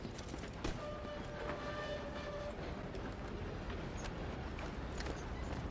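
Train rolling along in Red Dead Redemption 2, a steady dense rumble of wheels and carriages with a brief horn-like tone, continuous throughout.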